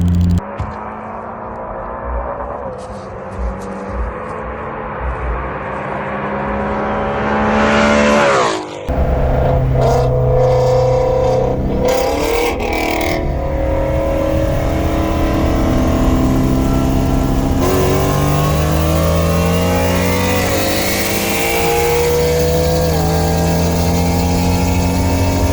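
A turbocharged F20B-swapped Honda Accord and a Mustang accelerate hard in a street race, engines roaring and revving loudly up through gears with shifts and rising pitch, close and sustained for most of the stretch.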